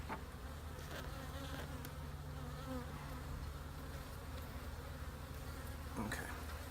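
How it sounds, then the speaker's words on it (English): Honeybees buzz around an open hive of a swarm, giving a dense, steady drone close to the microphone that never lets up, with a few individual bees flying past now and then. "Trying to be careful not to squish any bees."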